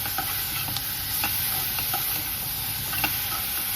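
Finely chopped mushrooms fry in a pan, giving a close, continuous sizzle broken by light scraping ticks as they are stirred.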